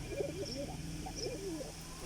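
Pigeons, including young Kalshira birds, coo in a string of soft wavering calls while being fed wheat, moderately close over a low steady hum, with no talk.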